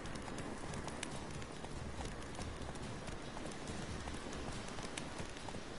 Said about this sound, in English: ride the horse a little bit longer